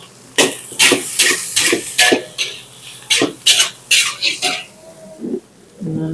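Egg rice stirred in a pan with soy sauce and vinegar, loud close scraping and clanking strokes of a spoon against metal coming in uneven bursts, with short pauses between.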